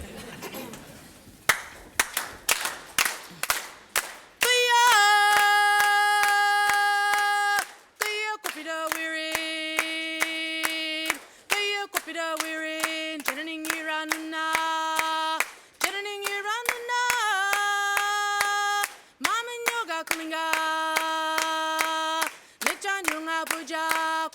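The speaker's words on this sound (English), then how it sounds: "So all you have to do is clap your hands" Rhythmic hand clapping from an audience at a mining company's annual general meeting, steady and close, accompanying a sustained chanted or sung voice that holds long tones throughout.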